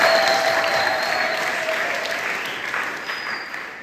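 A church congregation claps together in sustained applause for God during a sermon, a dense, steady wash of hands that fades slightly toward the end, with no voices over it.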